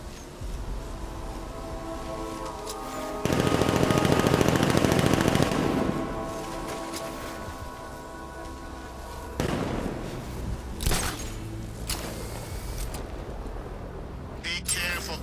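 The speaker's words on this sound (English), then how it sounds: "Be careful, the Bat's got a cannon on his car" Batmobile cannon fire in Batman: Arkham Knight, a loud sustained burst of rapid heavy shots followed by scattered blasts and booms, with voices talking in the background.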